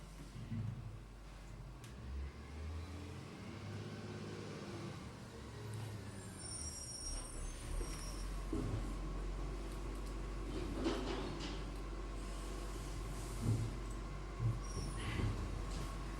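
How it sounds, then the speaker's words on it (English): A garbage truck arrives outside on a morning collection. A steady low engine rumble is heard at a distance, with faint clanks, hisses and thumps, muffled and quiet as if heard from indoors. "We have the trusty garbage truck arrived this morning."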